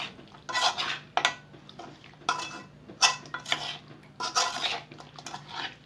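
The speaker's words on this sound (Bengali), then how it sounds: "এখন মাংসটাকে ভালো করে মাখিয়ে নিতে হবে।" Mutton rubbed with chili powder is stirred in a metal pot, giving clinking scrapes and rattles that arrive in short uneven bursts with quiet gaps between them, close and clear with no talking.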